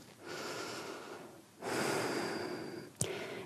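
Slow, deep yoga breaths drawn in and pushed out through the nose, two long airy exhalations followed by a sharp snort-like puff, close and alone.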